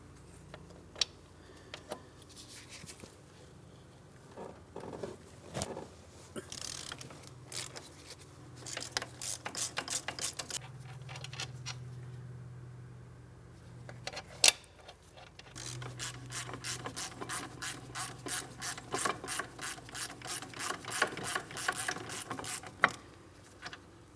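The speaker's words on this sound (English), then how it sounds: "I'm going to remove the first mounting bolt, give it a quick inspection, but start it in a couple threads." A ratchet wrench loosens a caliper mounting bolt on the front brake of a 2004-2008 Pontiac Grand Prix, giving several runs of rapid, close metallic clicking separated by short pauses, with no talking.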